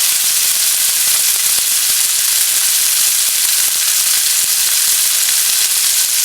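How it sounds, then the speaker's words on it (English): Steak searing in a hot cast iron skillet, a steady loud sizzle and hiss of fat spitting continuously throughout, close up with no talking. "So that sizzle and sear is exactly what we want to hear and see"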